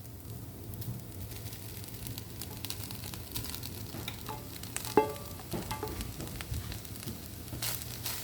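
Tuna and browned grated coconut fry in a pan with a soft, continuous sizzle, while occasional stirring scrapes and one sharp clink stand out near the middle.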